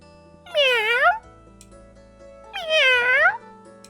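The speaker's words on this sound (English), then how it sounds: "As I walk, I hear the meowing of a cat." A cat in a city center gives two clear, drawn-out meows about two seconds apart, loud and close, with nothing else around them.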